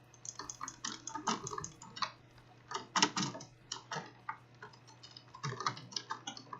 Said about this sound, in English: my keyboard is not ridiculously loud